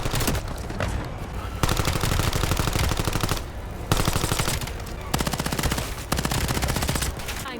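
Rapid automatic gunfire in the video game Black Ops 7, loud and close, in sustained bursts broken by short pauses, with a sharp rattling machine-gun texture throughout.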